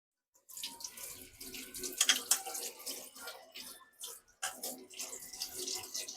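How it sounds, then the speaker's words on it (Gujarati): Leafy greens being rinsed under a running kitchen tap, with a steady close splash of water and uneven bursts as the leaves are moved and rubbed in the stream. "હવે આને પહેલા ધોઈ લેશું."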